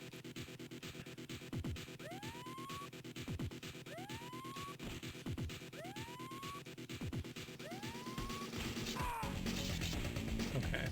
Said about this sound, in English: I think that siren whooping really is just part of the soundtrack, not indicating anything.